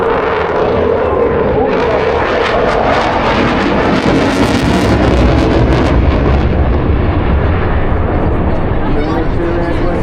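An aerobatic airplane at the Eastbourne Airshow roars loudly overhead, its engine surging and fading with strong wind buffeting, under talk from an announcer.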